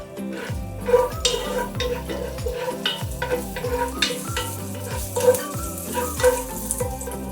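Chili and garlic stir-fried in a pan, a moderate sizzle under regular scraping strokes of a spatula and occasional clinks against the pan, no talking.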